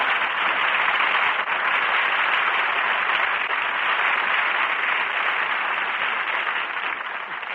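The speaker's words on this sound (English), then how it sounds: "Jack Benny, applause." Studio audience applause on a vintage Jack Benny radio comedy show, a dense, continuous roar of clapping with a narrow, old-broadcast tone, holding steady throughout and easing slightly at the end.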